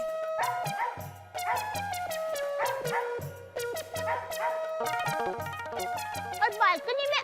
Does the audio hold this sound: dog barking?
yes